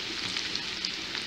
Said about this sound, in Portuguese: agora é só deixar ela ir fritando